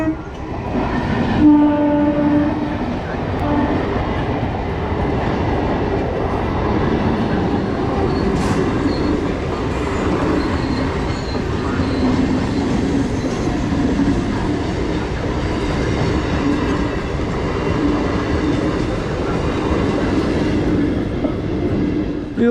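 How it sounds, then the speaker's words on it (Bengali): A train pulls into Chakdaha station past the level crossing, a loud, close rumble with clattering wheels and carriages and a horn blast early on, continuing without letup. "এখন রয়েছি চাকদাও রেলগেটের এখানে ট্রেন ঢুকছে দেখো"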